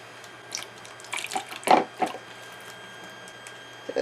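Bag of salt water lowered into a jar of sauerkraut liquid, giving a few soft wet splashes and sloshes over about a second, then quiet with a faint drip near the end.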